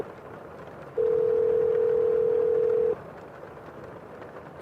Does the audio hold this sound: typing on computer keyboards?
no